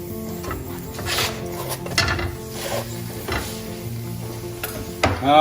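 Parota cooking on a hot pan, puffing up like a puri: steady close sizzling with scattered clinks and scrapes of a utensil against the pan, louder bursts here and there, no talking.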